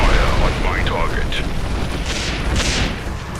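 Artillery fire in the strategy game Grey Goo booms and crackles in a dense, continuous barrage with a few distinct blasts, while a voice speaks over it.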